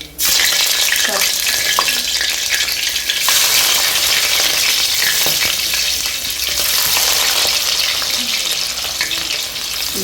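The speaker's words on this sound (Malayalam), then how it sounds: "നമ്മൾ നന്നായിട്ട് വഴറ്റണം." Fish curry masala frying and being stirred in a hot clay pot, a loud, steady sizzle that runs throughout with scraping stir strokes, and no talking.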